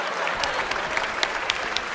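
Hands clap in a quick, slightly uneven run of sharp smacks at close range, steady throughout with no voices over them.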